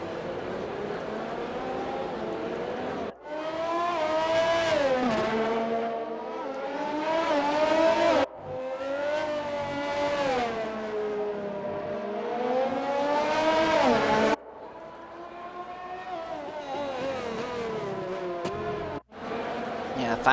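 Race cars on a warm-up lap in a racing video game, with steady loud engine drones rising and falling through gear shifts and several sharp cut-offs between cars, accompanied throughout by a commentator talking.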